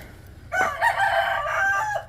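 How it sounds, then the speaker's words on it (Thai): A rooster crows loudly and close by at a rural Thai home where chickens are kept, a single sustained crow lasting about a second and a half over quiet background. "โอ้เจ้าเลี้ยงไก่บ่"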